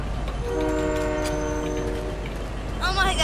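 A video game train sounds a long, loud horn blast over steady rumbling, with a voice breaking in at the end.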